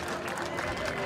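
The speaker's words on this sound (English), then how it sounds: "The biggest applause tonight." Applause from an audience at a farm competition event, a dense continuous patter of clapping mixed with crowd murmur and talk across a short stretch.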